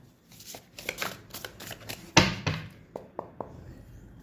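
A deck of tarot cards is shuffled by hand up close: quick riffling flutters and soft snaps, with one sharper slap midway, fairly faint and without talking.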